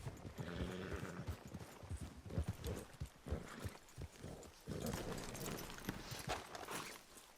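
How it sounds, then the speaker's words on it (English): Horse hooves clip-clopping in the Western video game Red Dead Redemption 2, a steady busy rhythm of several horses moving close by, with an occasional whinny and dense ambient game sound throughout. "Come on, you horses."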